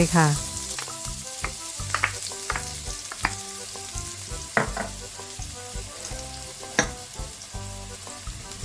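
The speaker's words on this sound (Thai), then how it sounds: "พอกระทะร้อนแล้วใส่กระเทียมลงไป" Hot oil sizzles and crackles steadily as garlic fries in a pan, with a few louder pops and spits rising over the continuous hiss.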